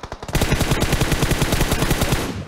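Rapid automatic gunfire in PUBG Mobile, a dense, close burst of evenly spaced shots that keeps going for about two seconds without pause.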